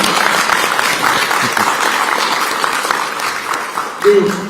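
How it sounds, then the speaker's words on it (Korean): Hearty applause from a crowd at a Democratic Party field meeting in Busan for candidate Jeon Jae-soo, steady dense clapping throughout, with a voice speaking briefly near the end. "전재수 후보에게 다시 한번 뜨거운 박수 부탁드리겠습니다"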